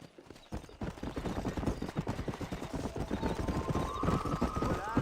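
Horse hooves clip-clopping at a steady riding pace in a cowboy video game, a dense continuous rhythm of close hoof beats, with a faint rising tone near the end.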